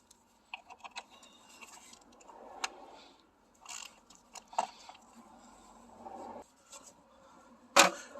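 A ratchet with a 10 mm socket loosening the top coil pack bolt on a Kia/Hyundai GDI engine during a fuel pump job, giving quiet scattered mechanical clicks and ticks with a sharper clank near the end.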